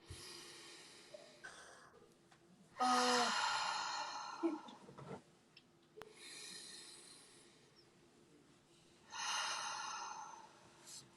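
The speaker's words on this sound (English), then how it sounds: "go ahead and take some more big deep breaths" A person takes big, deep breaths during a relaxation session, with long audible inhales and exhales, some with a snorting or sighing quality, close and fairly quiet against a still background.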